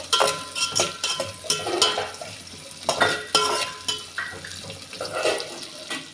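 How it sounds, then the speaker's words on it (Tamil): Garlic, onion and a single chili frying in oil in a home kitchen, stirred with a spoon, give off soft sizzling under repeated scraping and clinking against the pan. The strokes come in uneven bursts, fairly close, with no talking. "அந்த பூண்டு வெங்காயம்லாம் வந்து எண்ணெயிலே நல்லா வதங்கட்டும்"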